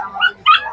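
A dog gives two short, close yips or barks at a pet market in Bocaue, high and slightly whiny, with a faint voice underneath.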